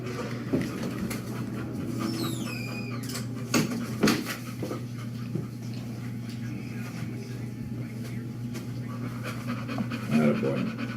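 A dog pants steadily and close by through most of the stretch, with a voice speaking over it and a few brief clinks and knocks in a studio setting.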